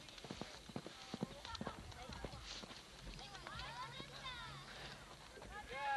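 Horse hooves clip-clop on the ground at a 1983 canyon camp, a run of irregular moderate hoofbeats amid outdoor noise, with people talking over them.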